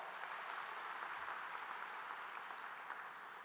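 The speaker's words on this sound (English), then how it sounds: "That's right, worth some applause." Steady applause from a crowd at the 35th annual Robin Hood Heroes Breakfast, fairly distant and even, with no voices over it.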